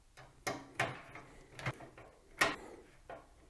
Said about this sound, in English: Then I'm just going to secure it at the back with the 4 screws which came with the fan.